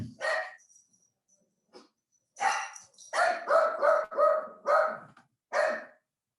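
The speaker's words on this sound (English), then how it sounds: "it's the mailman that my dog is getting upset about." A pet dog barks at the mailman from indoors, first a short yelp, then a run of about eight sharp, loud barks in quick irregular bursts with brief pauses between them.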